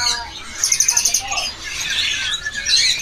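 A golden bulbul sings a quick run of bright, repeated chirping notes, followed by more warbling phrases, fairly close against a faint background hum.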